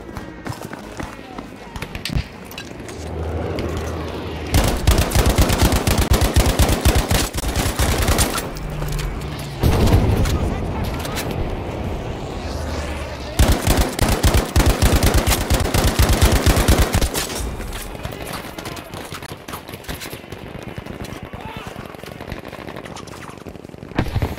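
Sturmgewehr assault rifle from Battlefield 5 firing in long, rapid automatic bursts at close range, loud staccato rattles separated by short pauses, with other battlefield gunfire and game noise underneath.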